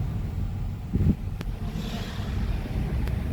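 Wind rushes past the microphone inside a moving taxi on a hot summer day, a steady low buffeting roar with a brief gust that swells and then settles.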